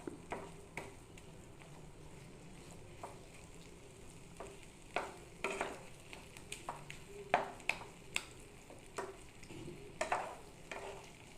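A dry chhana (fresh milk curd) mixture for a sweet made with bread is stirred in a pan, giving soft low scraping with scattered sharp spoon taps and clicks, steady and close with no talk.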